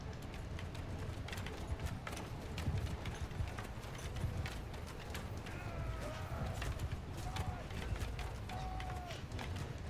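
Horses galloping across a Mount & Blade II: Bannerlord battlefield, hoofbeats thudding steadily inside a dense, continuous din of battle noise with faint creaks and clatter.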